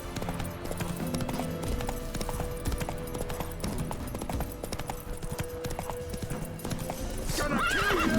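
Horse Roach gallops in The Witcher 3 video game, with a steady, rapid clip-clop of hooves throughout, close and continuous, and a whinny near the end.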